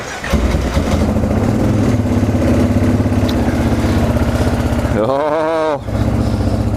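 A small ATV engine runs steadily and loud up close throughout, with a brief surging drop near the end as it is ridden.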